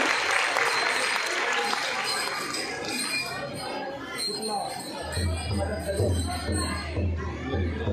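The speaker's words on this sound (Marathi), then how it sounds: "आपण एकदा जोरदार टाळ्यांचा गजर या सगळ्यांकडून कौतुक करूया" Applause from an audience at a devotional cultural programme where a group of young girls has just performed, loud and steady throughout, with crowd murmur mixed in and a low hum entering partway through.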